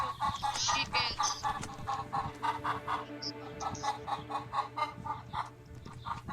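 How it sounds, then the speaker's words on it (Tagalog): Chickens clucking in a Roblox horror video game, a fairly close, rhythmic run of repeated clucks and squawks in bursts roughly every half second over a low steady game hum. "Chickens."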